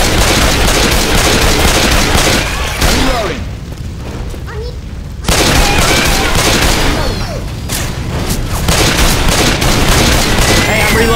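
Gunfire from the video game Left 4 Dead 2 rattles in loud, dense bursts, drops off briefly midway, then comes back at full intensity.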